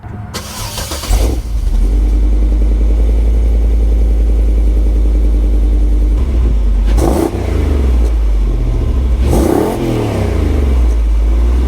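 A Land Rover engine idles with a deep, steady exhaust rumble, then is revved twice, each burst rising and falling back to the low idle.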